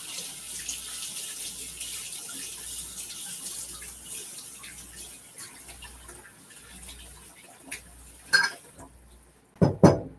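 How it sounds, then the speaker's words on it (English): Tap water runs steadily into a sink while goop is rinsed off a small kitchen utensil, with light clinks of the utensil near the end and a low rhythmic hum underneath. "Let me wash it off here."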